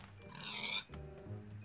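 Pigs oink in a video game, a faint grunting snort rising and falling over a quiet background hum, heard alone without talk.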